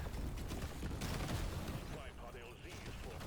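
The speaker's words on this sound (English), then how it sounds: "the high explosive grenade is already actually doing a really good job" Grenade explosions in Deep Rock Galactic Survivor pile up into dense, rumbling bursts of blasts and gunfire-like cracks at low level, with someone talking continuously over them.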